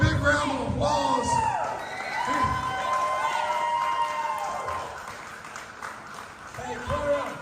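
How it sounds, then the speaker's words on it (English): A ringside wrestling crowd claps and cheers, with whoops and shouts rising and falling over several seconds and voices calling out above the applause. "let's give him a big round of applause."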